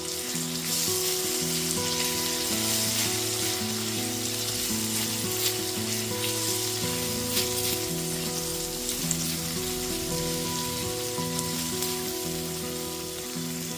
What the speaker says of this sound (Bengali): আদা রসুন বাটাটা দিয়ে দেওয়ার পর খুব ভালো মতো একটু কষিয়ে নিতে হবে।